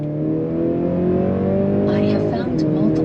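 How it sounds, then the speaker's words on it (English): A 2025 Mercedes-Benz C300 sedan pulls on throttle with a steady, loud engine drone whose pitch climbs gradually from inside the cabin, and a voice speaks briefly over it near the end. "we're gonna go on throttle. On throttle, here we go"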